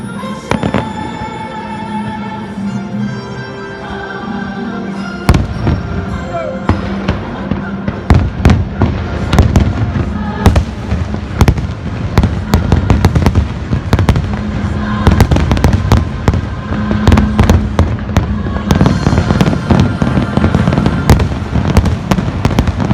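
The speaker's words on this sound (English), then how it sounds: "Oh, and the Christmas fireworks are not to be missed." Christmas fireworks at a Hollywood Studios theme park show, loud booming bursts arriving in rapid irregular succession over a sustained background of music, with scattered crowd noise.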